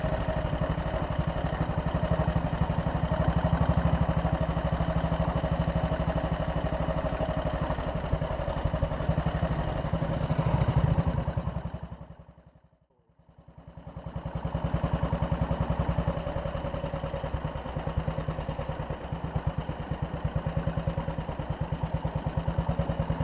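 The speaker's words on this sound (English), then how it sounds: "We rolled onto the site at mid-morning to join scores of other motorcycles made in Cleckheaton by Phelan and Moore." Phelan and Moore motorcycles made in Cleckheaton rumble and clatter steadily at a rally, engines idling and revving nearby, the sound dipping away briefly before returning at full strength.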